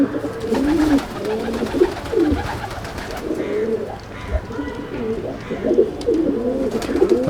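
Pigeons in a loft coo continuously and close up, overlapping rolling calls with a few faint background sounds and no clear speech.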